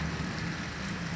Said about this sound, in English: You see that rain coming down? It's raining pretty hard.